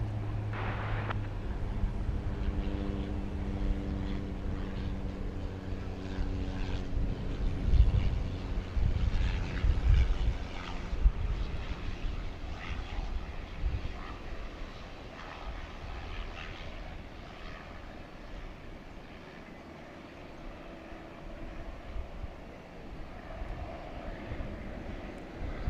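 A Martin Air flight arriving at DFW from Abilene, Texas, its engine noise a steady broadband roar with low tonal hums that swell around the middle, then ease off into a quieter rumble.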